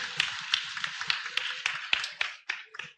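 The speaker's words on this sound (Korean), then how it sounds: "다시 한번 우레와 같은 박수를 한번." Church congregation at a Korean worship service claps in a loose, uneven rhythm, with sharp individual claps roughly every quarter second rising over a bright wash of hands, close and fairly loud, without talk.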